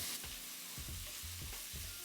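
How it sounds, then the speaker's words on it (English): Shrimp sautéing in a hot pan for fried rice, a steady loud sizzle with rhythmic stirring scrapes and clinks about every half second, no voices. "Sauteing shrimp, lobster happens super quick"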